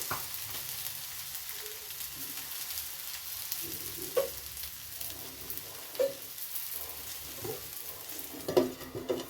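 Spinach roti cooks in a hot pan with a faint, steady sizzle, broken by a few soft clicks and bubbling pops.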